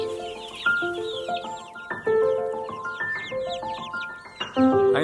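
Newly hatched hookbill ducklings, a critically endangered breed, peep in bright rapid chirps that overlap and rise and fall close by, with no talking.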